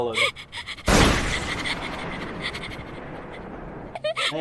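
An anime character pants in short, breathy gasps at the start and end, broken by a sudden loud crash and a stretch of noisy rumble in between.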